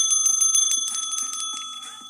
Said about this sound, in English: Gotta ring my bell. I love the tone of that bell.